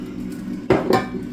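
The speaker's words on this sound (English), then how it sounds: "I'm gonna take my pan here, and I'm gonna load it with a bunch of oil." A cooking pan handled on the stove while oil goes in for a chickpea pasta salad: two short, close metallic clanks about a quarter second apart over a quiet kitchen background, with no talking.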